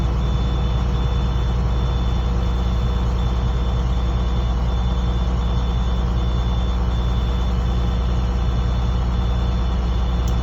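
Low air pressure warning alarm on an older bus during an air brake test, a steady electronic tone sounding continuously over the low rumble of the idling engine as air pressure builds.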